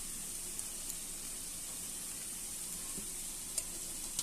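Chopped onions fry in a pan, making a faint, steady hiss of sizzling with a few small pops and light stirring, no voices.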